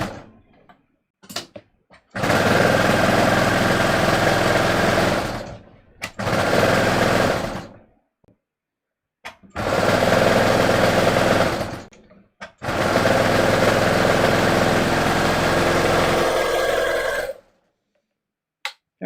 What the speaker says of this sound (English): I'm basically just sewing side seams together